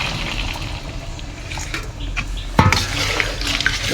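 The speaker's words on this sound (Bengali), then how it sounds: "এখন একটু পরিমাণ মতন জল দিয়ে দিই" Water is poured into a cooking pot on a home stove after the spices have been fried down, a splashing, gurgling pour heard close and moderately loud, briefly picking up in intensity partway through.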